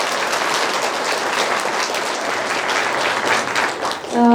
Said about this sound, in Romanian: vreau să aplaudați pe doamna director care v-a coordonat așa de bine